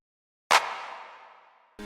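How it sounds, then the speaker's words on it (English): One clap sample from the chorus of a song recreation, a sharp noisy burst with a hissing tail that decays over about a second. A tonal sound cuts in at the very end. "We also have this clap that mostly just shows up throughout the chorus"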